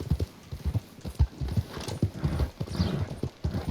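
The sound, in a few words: horse hooves clip-clop, video game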